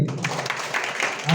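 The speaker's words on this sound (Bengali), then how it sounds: "আফসানার জন্য জোরে হাততালি।" A crowd at a school annual prize-giving ceremony bursts into a short spell of brisk applause, with voices heard over the clapping.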